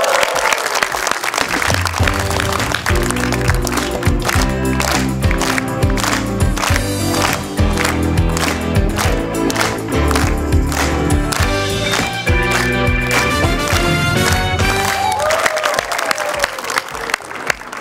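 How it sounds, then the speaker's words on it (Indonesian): A studio audience gives loud, sustained applause for weightlifting coach Dirdja Wihardja, the clapping running continuously beneath upbeat music. "bantu saya berikan tepuk tangan yang paling meriah untuk Dirja Wiharja"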